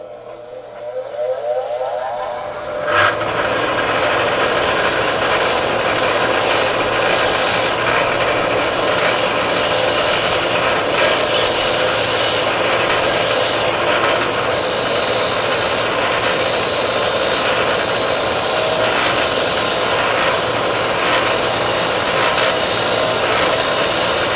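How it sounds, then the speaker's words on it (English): A power wire brush scours Bosch W8AC spark plugs from an air-cooled VW, spinning up after a brief quiet start into a loud, continuous, gritty scraping whir that holds steady close to the microphone. "The very first thing I do is give them a good go over with my power wire brush."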